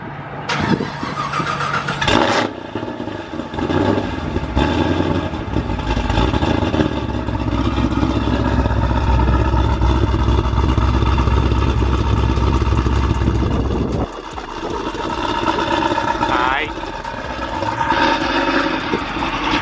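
A Pontiac G8 GT with an LSA engine runs steadily at close range, its deep continuous rumble holding level for most of the stretch before briefly dropping and then resuming.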